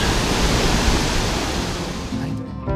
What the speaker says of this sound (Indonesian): Teman-teman akan disambut oleh suara gemuruh air yang jatuh dari ketinggian.